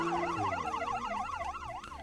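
Wailing ambulance siren from the Rescue HQ video game, a loud rising-and-falling electronic tone that cycles steadily and stays clear, with no talk over it.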